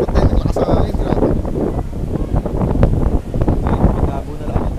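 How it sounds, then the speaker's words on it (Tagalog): Strong wind on a rainy Boracay beach roars loudly against the microphone in a dense, gusting rumble while a person talks over it. "But then naglakas ang hangin, grabe."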